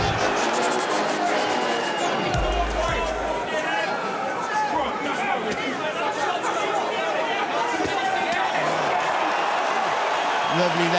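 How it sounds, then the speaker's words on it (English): A dense, loud boxing arena crowd roars and cheers steadily as Kovalev enters for his 16th world title fight, a continuous wall of voices with scattered applause throughout. "the cheers of the crowd as Kovalev makes his big entrance for his 16th world title fight"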